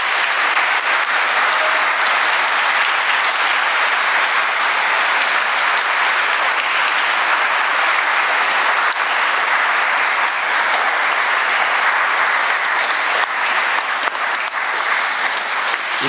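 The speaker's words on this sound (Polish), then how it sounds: "Proszę jeszcze raz dla sióstr o oklaski potężne." Applause for the sisters during a jubilee Mass in a church, sustained loud clapping from a large congregation filling the whole stretch without a break.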